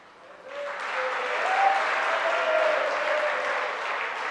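A congregation claps at a Jain sermon, the Mangal Pravachan of Sudha Sagar Ji Maharaj. Dense, steady applause swells in after a half second and carries on evenly throughout.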